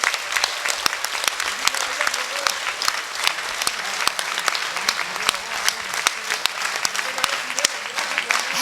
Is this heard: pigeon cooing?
no